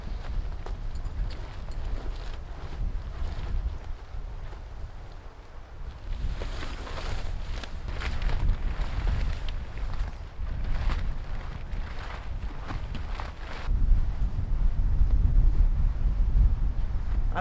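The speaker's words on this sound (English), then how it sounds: "It's windy." Strong wind gusts buffet a 3 x 3 tarp pitched outdoors, a steady roaring rush with surging gusts and flapping bursts, loudest near the end.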